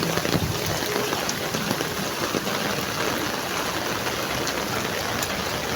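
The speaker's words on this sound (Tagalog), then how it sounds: "Napakalakas ang ulan." Heavy rain pours steadily and loudly during flooding in Valenzuela City, Manila, a dense continuous hiss of water striking surfaces nearby, with no one speaking.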